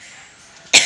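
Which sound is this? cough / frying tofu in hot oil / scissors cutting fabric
cough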